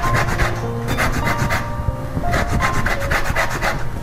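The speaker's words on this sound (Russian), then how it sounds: "Для этого мы натираем на терке только верхнюю шкурку." Orange zest grated on a kitchen grater, only the outer peel rubbed off, giving steady rhythmic rasping strokes in repeated bursts, close and fairly loud with no talking.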